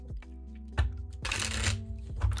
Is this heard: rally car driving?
no